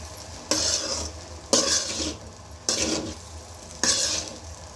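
Rice being mixed with salt in a pot, heard as four long scraping strokes at even intervals of about a second, each with a bright gritty rasp that fades before the next, close by.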